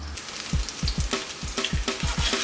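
Lamb chops fry in butter and oil in a pan, a loud close sizzle broken by a quick run of soft thumps and crackles as the meat shifts.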